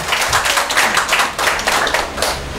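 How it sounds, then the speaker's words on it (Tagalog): Dense, continuous clapping from many hands of an audience at a live talk, loud and sustained without pause. "Tuloy niyo yung palakpak."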